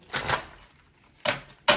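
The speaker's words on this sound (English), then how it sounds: "1 more shuffle, Spirit." Tarot cards are shuffled by hand in short crisp bursts: one longer riffle, then two quick snaps close to the mic, with no voices.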